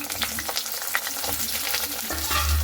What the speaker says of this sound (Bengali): যে বেগুনগুলো কেটে নিয়েছিলাম এরপরে বেগুনগুলোকে হালকা করে ভেজে নেব